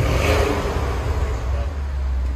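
A loud rev from a 2010 Porsche Panamera Turbo's 4.8L V8, fitted with dual exhaust and resonator delete, peaks at the start and then drops into a throaty, steady idle rumble at close range.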